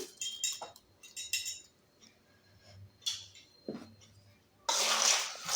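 A metal ladle stirs fried boondi with curry leaves in a pan, making scattered light clinks and scrapes in short bursts, then a louder rustling scrape near the end.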